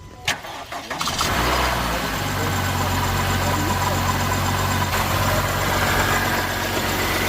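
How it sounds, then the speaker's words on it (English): A Honda Civic engine cranks briefly, catches and settles into a loud, steady idle, with a constant rubbing whine from the drive belt scraping against the reservoir running underneath throughout. "let's start the engine, and hopefully this thing start"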